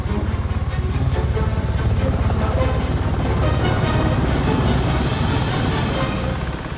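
A loud, continuous helicopter rotor from a movie scene in Skyfall thumps rapidly and steadily, filling the whole clip with heavy whirring noise and no speech.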